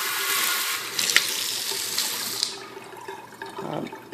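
Water running from a Moen Tilt kitchen faucet into a sink, a steady hissing stream that fades partway through, with a brief splash near the end.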